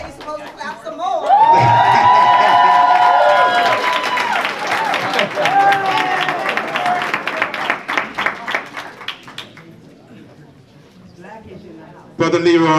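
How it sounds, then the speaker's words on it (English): A community forum audience bursts into loud applause with cheering and whoops, the clapping swelling then thinning over about ten seconds before voices and a sudden loud burst close it out. "Okay, you're supposed to clap some more."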